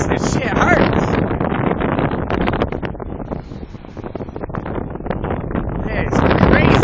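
Violent gusts of around 60 mph roar across a stormy shore near a fishing pier, a loud, continuous buffeting rush that swells and dips and swells again, thrashing close against the microphone throughout.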